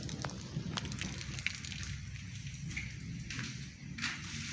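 Steady soft hiss of rain with scattered drips and patters, fairly faint, with no voices.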